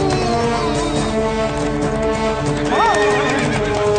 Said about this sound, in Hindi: जल्दी कुछ करना होगा, वरना ये घोड़ा सारे बाजार को मैदान बना देगा।